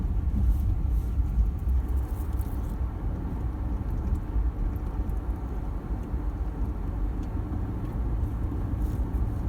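Toyota Land Cruiser Prado driving through a campground, a steady loud interior engine and road rumble with continuous low noise and no talk.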